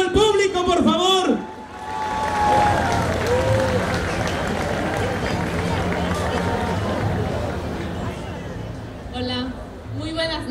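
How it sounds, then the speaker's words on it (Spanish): A festival crowd applauds and cheers the newly crowned 2014 festival queen at the opening night of a regional fair, a broad, sustained roar of clapping lasting several seconds, with a voice speaking briefly before and after. "Y el aplauso del público, por favor."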